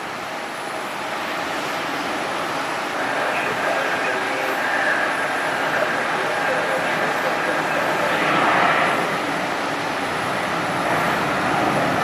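A United airliner rolls down the runway for takeoff at a Cleveland airport, a steady broad roar heard from a distance that swells slightly as the jet gathers speed.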